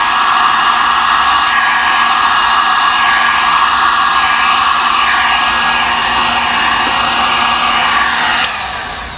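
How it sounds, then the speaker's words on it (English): Heat gun on low setting blowing steadily across wet resin waves on a beach painting, a loud continuous airy whoosh with a faint whine that holds for about eight seconds before tapering off at the end. "The heat gun makes the resin run a lot more"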